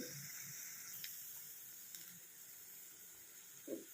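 Small sabudana punugulu, sago fritters, frying in a pan of hot oil give a steady, soft sizzling hiss with occasional faint pops and a brief low bump near the end.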